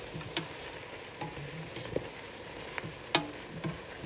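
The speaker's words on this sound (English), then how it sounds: "So I'm cooking the mushrooms over a medium to medium-high heat for probably about 10 minutes until tender." Mushrooms cook in a pan over medium to medium-high heat for a mushroom chicken soup, giving a quiet, steady low sizzle broken by occasional soft clicks and pops.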